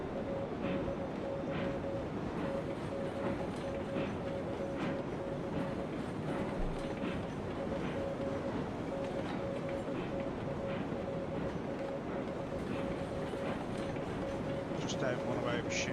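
A freight train rolls steadily through the video game Railroads Online, a continuous low rumble with faint rhythmic clatter and a steady whistle-like tone running the whole time, with a voice talking over it.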